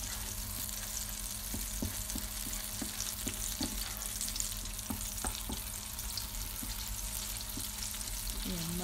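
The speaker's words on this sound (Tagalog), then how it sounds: "I-melt lang natin ang ating butter." Butter melting with about two tablespoons of oil in a hot Instant Pot, a steady close frying hiss with light regular taps of stirring underneath, no voices.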